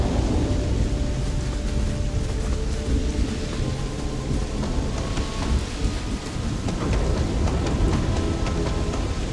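Steady rain and rolling thunder from a storm in the video game Starfield, a dense continuous downpour with low rumbles throughout, loud and unbroken, no voices.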